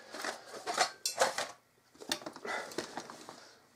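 Titanium camping cookware clinks and rattles in a few bright, short bursts with pauses between, close by, as a lightweight frying pan plate and pots are handled.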